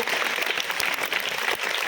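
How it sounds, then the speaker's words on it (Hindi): Steady applause from a school audience, a dense wash of clapping hands throughout, moderately loud with no voices over it. "उनके लिए आप लोग जोरदार तालियां बजाएं"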